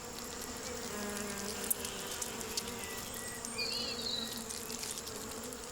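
Bees buzz steadily and continuously around sweet windfall Williams pears lying in an orchard, with several overlapping wingbeat drones and a few closer passes rising above the even hum.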